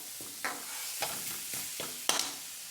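Masala paste with chili and coriander powder being sautéed and stirred in a pan for egg curry, with a low steady sizzle broken by several distinct scraping stirs at irregular intervals.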